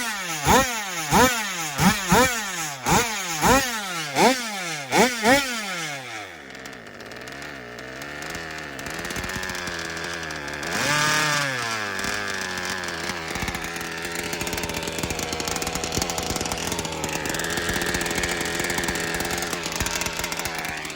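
A new BR34cc engine during break-in. It opens with about six sharp rising revs in quick succession, then settles into a loud, steady run with a surge around the middle, close and continuous.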